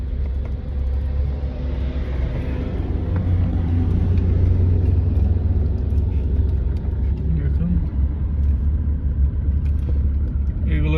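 A car drives along a windy desert road in Saudi Arabia, its steady low engine and road rumble continuous throughout, with wind buffeting and a voice talking over it.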